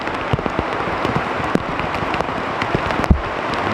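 Rain falls on a tent in an Alaskan rainforest, a steady hiss of drops with sharper individual taps and patters scattered through it, close and fairly loud.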